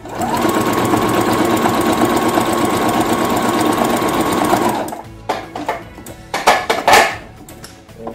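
A sewing machine stitches straight ahead on a fabric grocery bag dispenser, running in a loud, steady whir for about five seconds before stopping, followed by a few short clicks and clatters.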